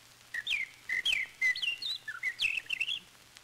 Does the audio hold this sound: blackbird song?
yes